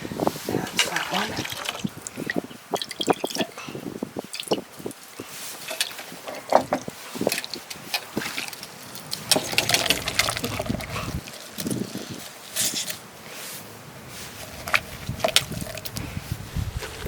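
Water trickling and dribbling from a soapy sea sponge being wrung out by hand, with irregular wet squelches and drips, fairly close, mixed with occasional speech.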